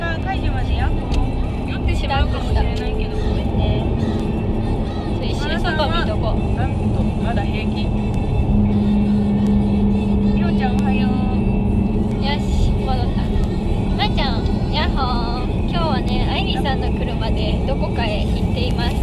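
Inside a moving car, a steady low engine and road rumble runs throughout, with people talking over it.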